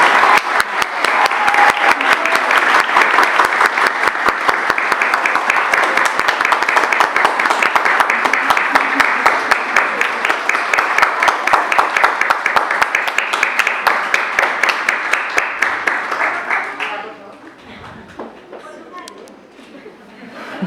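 An audience at an award ceremony honoring women at a constitutional court claps long and steadily with dense applause, which then fades into quieter room noise near the end.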